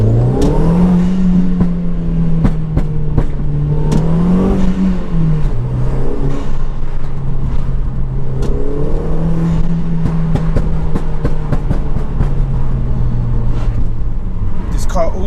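An Audi S3 8L with the 225 BAM engine, tuned to 285 bhp with a pop-and-bang map, drones steadily near the listener, sharp crackling pops breaking through the drone while someone talks over it.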